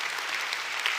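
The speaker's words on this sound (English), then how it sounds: "round of applause for my friends being willing to be uncomfortable" A church congregation at a Sunday worship service breaking into applause, a dense, even roomful of clapping for about a second.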